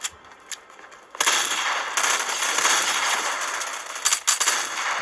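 A few sharp shotgun blasts fire in a video game, followed by a sustained noisy burst of loud crackling and several more close reports, with no talk.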